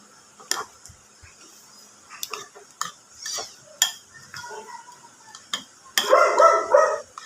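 Eggplant being stirred and mixed in a pan, with a spatula scraping and clinking several times in irregular bursts, followed by a louder, denser stretch of frying and stirring near the end.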